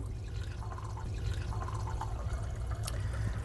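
Water pours steadily into a container nearby, a continuous splashing trickle at moderate volume.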